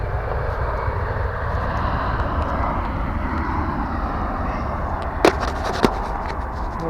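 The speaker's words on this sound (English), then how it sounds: "Oh, British Airways just landed." A British Airways airliner coming in to land at the airport, a steady loud engine roar held throughout with a couple of brief sharp clicks near the end, no talk.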